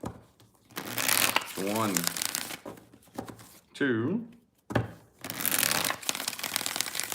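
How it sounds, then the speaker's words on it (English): Tarot cards being shuffled by hand, several riffling and rustling bursts of paper noise spread across the clip, close and fairly loud, with a person counting aloud in between. "Let's get 4 shuffles here."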